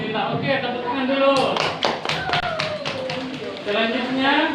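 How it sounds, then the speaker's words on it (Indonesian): A short burst of clapping from children in a classroom, loose uneven claps with a teacher's voice audible around them. "Oke, tepuk tangan dulu."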